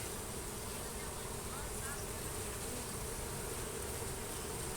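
Dense, constant buzzing of many aggressive bees swarming close by an open hive during honey harvesting, a thick insect hum with no pauses and no talking.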